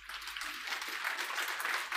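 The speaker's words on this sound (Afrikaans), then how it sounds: "So, kom ons gaan vir hulle net 'n groot hande klap gee." Congregation applause at a church service, a dense, steady wash of many hands clapping together without pause.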